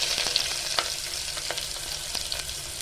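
Cinnamon, cloves, fennel seeds and small shallots fry in hot oil for mutton kuzhambu with a constant light sizzle, punctuated by quick scrapes and taps of a spoon stirring the pan.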